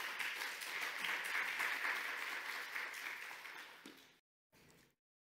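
A church congregation gives a big round of applause welcoming a pastor to deliver a Sunday sermon, loud steady clapping that tapers off and cuts out near the end.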